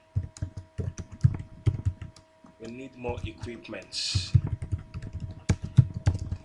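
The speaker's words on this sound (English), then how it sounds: "Continue typing." Steady tapping on a computer keyboard while someone fills in a web form, the quick uneven clicks running throughout beneath a person speaking in the middle.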